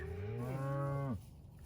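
A single long, deep moo from cattle on a farm near Ponoka, Canada, close and clear, rising then sliding down before cutting off into quiet outdoor ambience.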